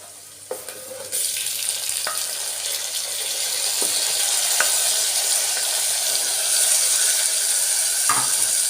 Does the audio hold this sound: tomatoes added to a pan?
yes